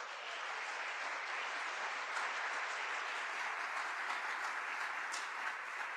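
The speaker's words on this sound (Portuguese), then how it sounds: "Você pode aplaudir esse Deus?" Church congregation applauding during a sermon, steady even clapping heard from a distance at low volume, unbroken for the whole stretch.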